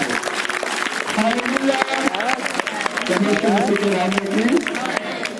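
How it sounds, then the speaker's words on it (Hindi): A congregation at a Hindi-language Christian worship gathering breaks into loud, continuous clapping and cheering, a dense wash of hand claps mixed with voices and crowd chatter throughout. "तो जोरदार ताली बजाएगा"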